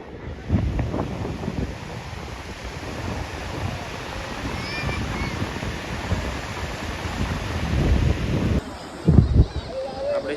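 Waves roll and wash in continuously while strong wind buffets the microphone, growing rougher toward the end.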